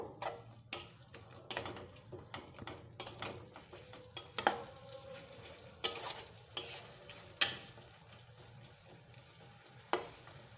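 Chopped coriander leaves and peas are stirred in a pan for aloo dum. A spoon scrapes and clacks against the pan in repeated sharp knocks over a low, soft sizzle, with no voices.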